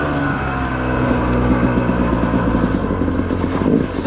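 A Yamaha YZ250X or KTM 250 XC dirt bike engine runs loud and close at a fairly steady pitch, with a slight rise in revs toward the end.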